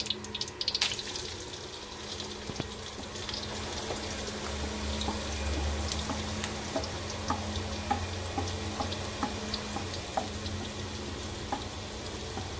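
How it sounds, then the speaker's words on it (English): Onions fry in heated olive oil with a continuous close sizzle and crackle, with a few light clinks along the way and no talk. "we're going to let the onions cook until it turns translucent before we throw in the garlic"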